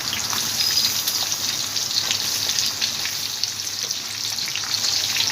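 Onions drop into oil already holding cumin, black pepper and bay leaf, giving a continuous bright sizzle with a rain-like patter of tiny pops, steady and close throughout.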